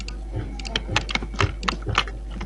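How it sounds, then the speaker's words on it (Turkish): Rapid, close clicks from a computer mouse, including quick double-clicks, tap out in an uneven run over a low steady hum during a Minecraft session. "Şu mouse'un çift tıklaması valla çok sıkıntılı ya"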